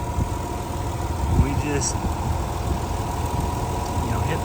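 A 1992 Nissan 300ZX engine idles with a steady, close mechanical rumble and a small rev bump, while someone speaks briefly over it.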